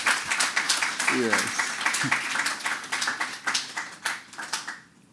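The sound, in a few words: audience applause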